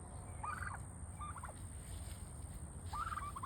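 Turkeys gobble in short rattling bursts, a couple of calls spaced apart over a faint steady background, moderately near and fairly quiet.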